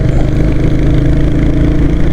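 Royal Enfield Hunter 350 motorcycle engine running steadily with a deep, continuous low throb, close and loud throughout with no talking, after a slight engine retune for sharper throttle response.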